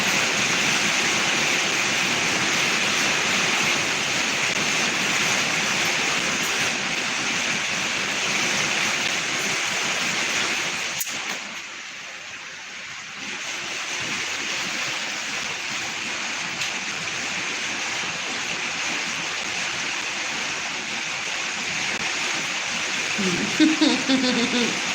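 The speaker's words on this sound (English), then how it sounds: "You can hear the rain." Steady broadband rain, a dense even hiss that runs without a break for the whole stretch, dipping briefly around the middle before returning at the same level.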